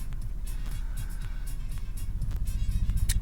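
A Toyota 1KR-FE car engine idles with a steady rapid knocking tick over a low rumbling hum, close and fairly loud, growing slightly more pronounced toward the end.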